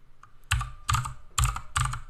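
Clacky key presses on a computer keyboard while HTML code for an anchor-tag image link is typed, four distinct bursts in a steady rhythm, close and clear with no talking.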